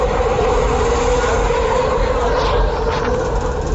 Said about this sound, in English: Loud train noises